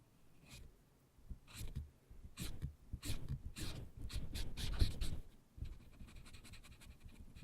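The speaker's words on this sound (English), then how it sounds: "I like the sound of it when the paper's on the mic." Paper rubbing and scratching against a microphone while coloring a print with Copic markers, close-up irregular rustles and scrapes in bursts, quiet overall.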